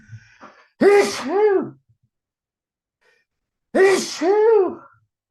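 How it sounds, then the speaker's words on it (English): Two loud sneezes, each a sharp intake followed by a forceful burst, separated by a few seconds of quiet, close to the listener. "I've got to sneeze."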